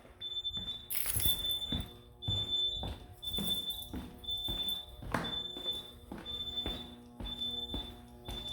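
An Early Alert System alarm in a rental home sounds repeated high electronic beeps at a steady rhythm, about one per second, over thumping and handling noise nearby.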